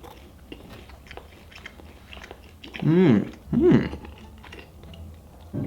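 Two loud, close crunching bites into a flaky, crunchy Domino's dessert, a quick pair about a second apart, followed by softer chewing against a low background murmur.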